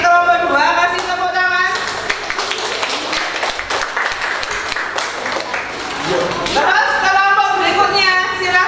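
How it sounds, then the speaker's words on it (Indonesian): Classroom applause for a presenting student group, scattered clapping mixed with children's chatter and voices at the start and end, steady and moderately loud throughout. "kasih tepuk tangan"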